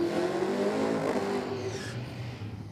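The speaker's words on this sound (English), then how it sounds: "That is the sound of our Lord and Saviour, the LS motor, Mark." A loud LS V8 engine revs hard up close, a deep throaty roar that climbs and then settles into a rumbling idle.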